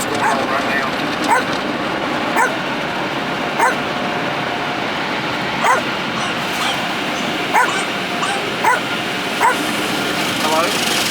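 A dog upset by the roar of a car wash whimpers and yips in short repeated bursts about every second or two, heard over a loud, constant wash of water and machinery.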